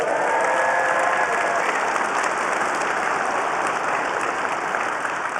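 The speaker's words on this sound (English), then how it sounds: "Give DJ a big round of applause" A large keynote audience at Cisco Live in Las Vegas claps steadily and loudly, a dense sustained applause that fades slightly toward the end.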